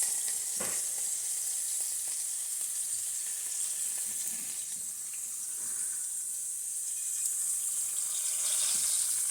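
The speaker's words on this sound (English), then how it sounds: "Set that sizzling hot pan aside." Loud, steady sizzling of sous vide pork tenderloin searing in a hot pan, a constant bright hiss with occasional pops, no talking.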